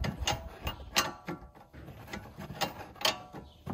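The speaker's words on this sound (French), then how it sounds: "Il faudra une clé à pipe de 18 et on démonte." An 18 mm socket wrench ratchets as it unbolts the front stabiliser link on an Audi TT MK2 8J, giving a rapid series of close, metallic clicking strokes with no talk.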